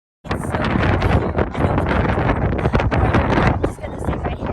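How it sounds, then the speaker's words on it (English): Strong wind at Hoover Dam buffets the microphone in loud, continuous rumbling gusts that swell and dip throughout, with no clear talk above the roar. "It's so windy here."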